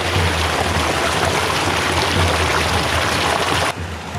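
A creek flows steadily with a continuous, close rushing wash of water that stays loud and even, dropping slightly near the end.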